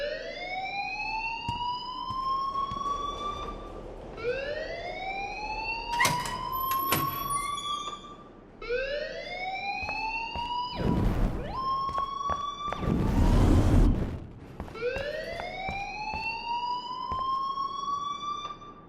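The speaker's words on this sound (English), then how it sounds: "please turn off that alarm" An alarm repeats in a scene from the video game Life Is Strange, a rising wailing siren sweep that cycles every few seconds, steady and fairly loud, with a few bursts of clatter and noise between sweeps and no talking.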